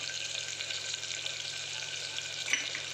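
Thecha added to potatoes and onions frying in a pan for mixed vegetable khichdi, giving a steady close hiss of sizzling oil with a brief stir or clatter near the end.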